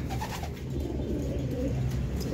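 Racing pigeons coo in a loft before a race loading, a low, continuous murmur of overlapping coos from several nearby birds with a faint higher chirp.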